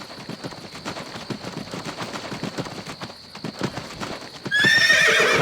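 Cavalry horses gallop into battle in the video game Empire Earth, with a dense, rapid patter of hoofbeats that builds and then gives way to a loud, shrill whinny.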